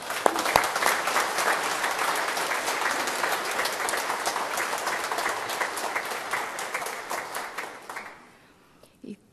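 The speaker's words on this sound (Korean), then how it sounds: "여러분 환한 웃음으로 따뜻하게 박수로 맞아주시기 바랍니다" A church congregation at a Sunday service breaks into sustained, dense applause, a steady roar of many hands clapping that fills the room for several seconds, then fades abruptly into quiet.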